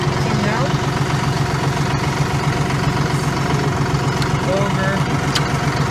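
A John Deere 5065E tractor's diesel engine idles steadily and close by, a continuous low rumble with even vibration and no change in pace.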